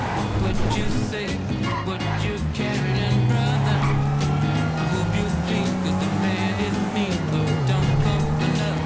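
Car engine droning steadily while driving in Grand Theft Auto 5 Online, loud and continuous with rising and falling pitch, mixed with game effects and voices talking over it.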